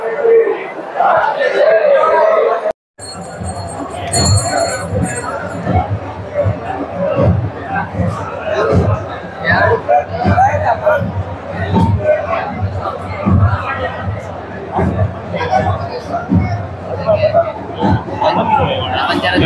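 Dense crowd noise fills a temple sanctum during a village jatra for the goddess Mauli at Sonurli, with continuous babble and shouting close around, and a brief dropout near the start.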